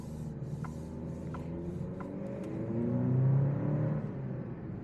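An Alfa Romeo Stelvio Ti SUV pulling away from a stop on a city street, heard from inside the cabin as a steady low engine drone that swells into a fuller rumble midway through the pull before easing off.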